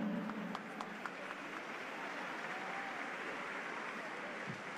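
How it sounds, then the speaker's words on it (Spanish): Applause at a women's volleyball league awards ceremony, a steady wash of clapping from the audience, faint and distant, with a few sharper claps early on. "Por favor, un fuerte aplauso también para Norma."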